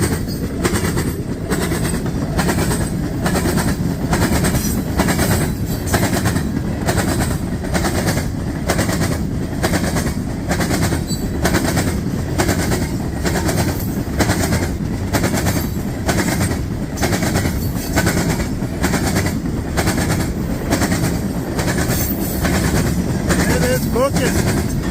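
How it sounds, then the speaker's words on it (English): A long, heavy coal freight train of some 500 axles rolls steadily past nearby, its wheels beating a continuous rhythmic clickety-clack over the rails for the whole stretch, loud and unbroken. "Long, heavy train full of coal."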